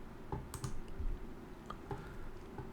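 Birth details being typed on a computer keyboard: a few quiet, scattered key clicks in uneven bursts, faint and close, with no voices.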